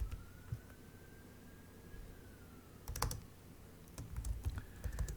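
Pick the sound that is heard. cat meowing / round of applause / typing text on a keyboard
typing text on a keyboard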